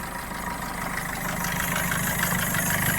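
A 2019 Maruti Suzuki Vitara Brezza VDI diesel engine idles with its bonnet open, a steady, even, clattery hum with constant vibration throughout, close and unbroken, with no voices.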